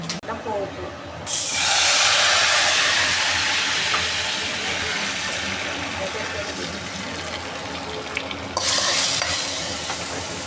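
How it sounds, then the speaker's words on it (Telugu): Mustard seeds, cumin, urad dal, dried red chillies and curry leaves sizzle loudly in hot oil as a tempering for sambar. The sizzle bursts up suddenly and hisses steadily close by, then eases back slightly near the end. "పోపు."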